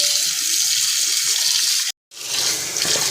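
Water pours steadily into a kitchen sink being cleaned, a broad close gushing rush that stops abruptly for a moment and then resumes just as strongly.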